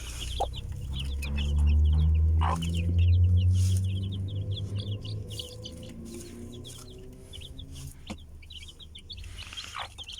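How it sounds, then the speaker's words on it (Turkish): Chicks peep in quick, high chirps while hens cluck softly nearby, over a low background hum, with a few short bursts of noise. "Maşallah civcivlerimiz gayet iyi."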